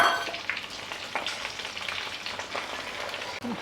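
Mustard seeds, fenugreek, urad dal and chana dal frying in hot oil for a pickle, giving a steady close sizzle with scattered crackling pops from the seeds.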